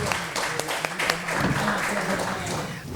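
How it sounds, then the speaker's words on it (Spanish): An audience at a health economics and management event breaks into applause, a dense patter of clapping that holds steady for a few seconds, with faint voices mixed in. "Un aplauso."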